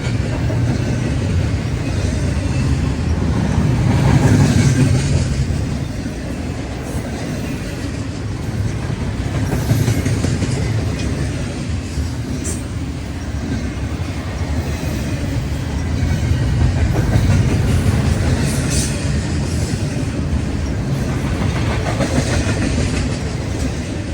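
Intermodal freight train with distributed power units rolling past near Greenville in the morning, a steady loud low rumble with rail clatter and engine drone swelling and easing across the pass, no voices.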